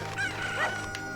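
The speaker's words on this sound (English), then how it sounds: "I think I need to take one of these chickens back." A chicken in the Zelda Ocarina of Time video game gives a few short clucks and a squawk over a steady game background, moderately loud and close.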